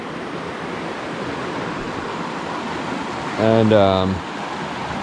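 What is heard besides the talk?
creek water flowing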